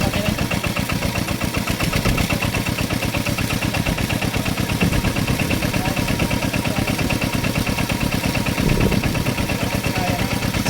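A farm engine, likely an irrigation pump motor in a Roxas, Isabela rice field during the second crop, runs steadily with a dense, even low throb that holds at a constant loud level without pauses.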